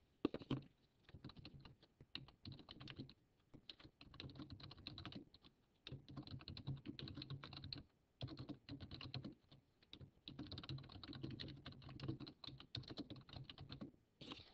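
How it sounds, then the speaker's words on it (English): Someone types steadily on a computer keyboard, close and clear, with rapid clicking bursts separated by brief pauses throughout. "So now all I have to do is continue typing."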